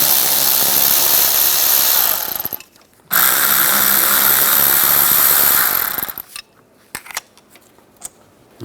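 Bolts come off a brake caliper on a 2007-2013 Mini Cooper under a loud, close power tool, with two long whirring bursts split by a short pause and then a few brief clicks and taps.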